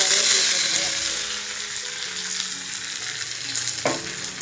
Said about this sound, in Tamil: கருவேப்பிலை போட்டுக்கலாம்.